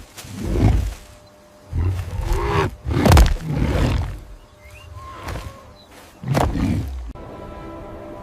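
Lions roar in several deep, loud bursts with pauses between them, the last one shorter and trailing into a quieter background.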